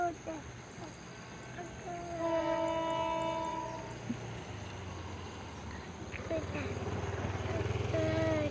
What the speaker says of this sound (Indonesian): Ya, kereta apinya tuh.